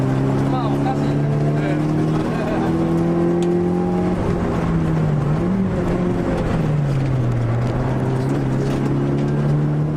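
A drift car lapping Nikko Circuit, easing off on the back straight: a steady, loud engine drone with shifting pitch and a brief dip, continuous and close throughout.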